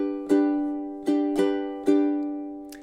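Fingerstyle ukulele phrase from a cute summer song, four plucked chords in a steady rhythm, each ringing and decaying, played close and clear with no talking.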